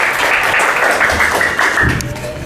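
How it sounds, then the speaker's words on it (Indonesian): Brief, loud applause and clapping for a presenting student group in a classroom, with a few thumps and taps mixed in. "Tepuk tangan buat kelompok"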